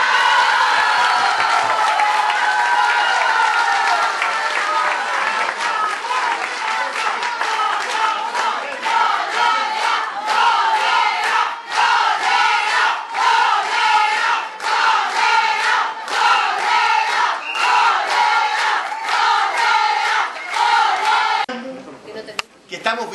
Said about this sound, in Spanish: Quiero pedir también un aplauso muy grande